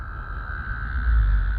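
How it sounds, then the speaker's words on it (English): A chorus of frogs croaks from rain-filled ponds on a muddy disc golf course, a steady, continuous trill that holds throughout, with a low wind-like rumble underneath. "You can hear the frogs, I'm sure."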